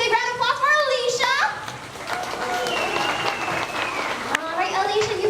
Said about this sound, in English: All right, let's give a nice big round of applause for Alicia.